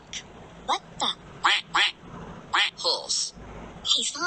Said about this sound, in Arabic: Duck. بطة. Duck. بطة.